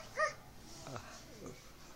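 A small child imitates a dog's bark in a short, faint vocal burst near the start, followed by quieter babbling-like sounds over a soft background.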